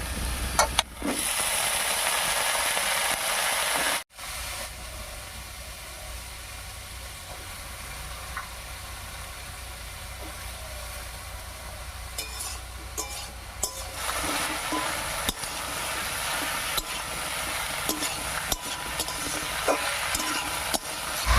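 Taro stolons are added to deeply browned fried onions in a pan, giving a loud, steady sizzle with a sudden brief drop, then scraping and clinking from stirring and a sharper burst of frying later.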